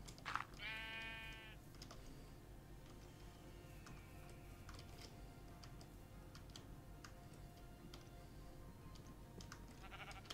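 A sheep in Minecraft lets out one short bleat at the start, followed by a steady low in-game background hum and scattered faint ticking clicks with no talking.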